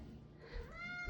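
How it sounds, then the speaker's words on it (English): A little kitten gives one short, rising meow at the door, asking to be let outside; the call is faint and brief against a quiet room. "the big old cats, she's just a little kitten, meow at the door when they want to go out"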